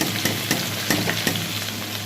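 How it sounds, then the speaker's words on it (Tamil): Onion, green chili and coriander fry in hot oil in a kadai with a steady loud sizzle, broken by a few sharp crackles and stirring knocks at even intervals. "இப்போ வந்து கடாயில் எண்ணெய் வச்சாச்சு. நம்ம வந்து இந்த வெங்காயம், அதுக்கப்புறம் பச்சை மிளகாய், கொத்தமல்லி இது எல்லாமே சேர்த்துடலாம்."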